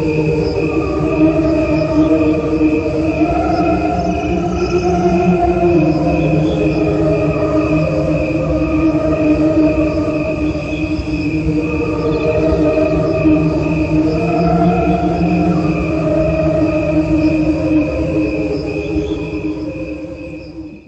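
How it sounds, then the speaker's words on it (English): Music built from cricket recordings slowed down, a steady layered drone of sustained harmonic tones with a gently pulsing, chirp-like texture, loud and continuous throughout with no talk. "Check out this music by a person who was inspired by cricket sounds. He recorded them, slowed them down,"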